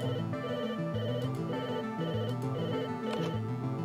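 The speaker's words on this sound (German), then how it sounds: "Hier klingt auch ein Telefon." A telephone in the Stranger Things 3 video game rings in a steady repeating electronic melody, loud and alone, with no talk over it.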